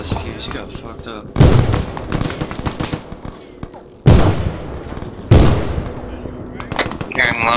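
Explosions and gunfire in the military shooter Arma 3: three heavy, close booms break over steady rattling shots, with players talking over the combat.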